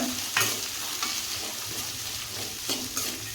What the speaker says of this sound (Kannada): ಈಗ ಇವು ಸ್ವಲ್ಪ ಫ್ರೈ ಆಗಲಿ.